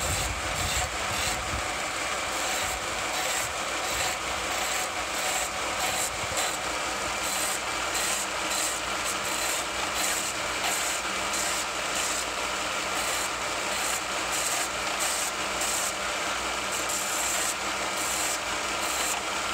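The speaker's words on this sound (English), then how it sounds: "So then I'll just sand it." Sandpaper works over a wooden axe handle on a Russian axe, a continuous close rasping rub that carries on steadily throughout without pauses or voices.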